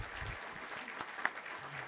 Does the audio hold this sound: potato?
no